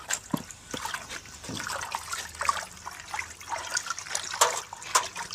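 Water trickles and splashes steadily while moringa greens are rinsed outdoors by the garden, a close, irregular sloshing flow lasting several seconds with no talk.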